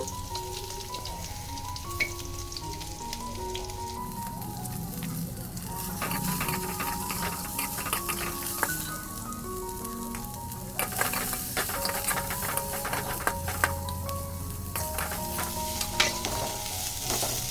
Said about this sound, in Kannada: ಮೀಡಿಯಂ ಫ್ಲೇಮಲ್ಲಿ ಇಟ್ಕೊಂಡು ಈರುಳ್ಳಿನ ಬ್ರೌನ್ ಕಲರ್ ಆಗೋವರೆಗೂ ಉಟ್ಕೊಳ್ಳೋಣ